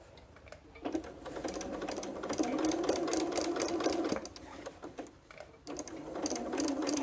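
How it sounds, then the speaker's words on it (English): A sewing machine stitches along the edge of a quilt's hanging sleeve, running in close whirring bursts with short pauses between them. "So you're just basically going to do a nice little stitch along this edge."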